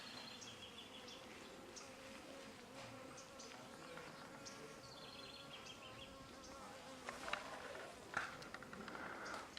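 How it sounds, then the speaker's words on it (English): A swarm of bees buzzes near water on a forest trail, a steady, fairly faint drone with some louder passes close by. "Whoa, bunch of bees."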